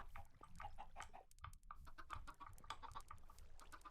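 Chickens in Minecraft cluck in quick, repeated bursts, faint and continuous with no talking over them.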